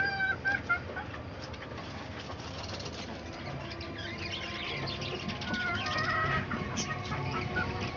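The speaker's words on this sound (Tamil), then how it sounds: "இவர் ஒரு சேவல்." A free-range country rooster kept with hens on a rooftop terrace clucks in short repeated bursts over a dense, noisy outdoor background, moderately distant, with no talking.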